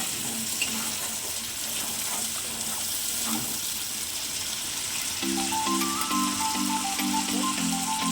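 Spice paste frying in oil in a pan for a koi fish curry, giving a steady, close, loud sizzle that runs through the whole stretch. A few faint clinks sit over it and a brief tonal beeping comes in near the end.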